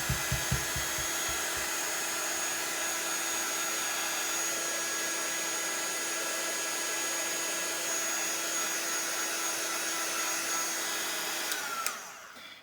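A heat tool drying ink roars in a constant, even whoosh with a faint whine for most of the time, starting after a few quick clicks and stopping near the end.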